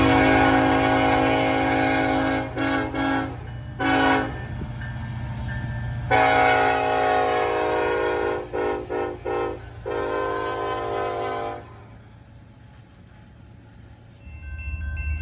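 A Union Pacific 1943 locomotive sounds its K5LLA horn in several loud chords, some long and some short blasts, over rumbling train noise that continues after the horn stops.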